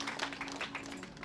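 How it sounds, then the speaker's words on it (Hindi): Brief patter of audience clapping at a gathering, steady and moderately close, with a faint tonal hum underneath. "एक बार उनके लिए भी हम ताली बजाते हैं"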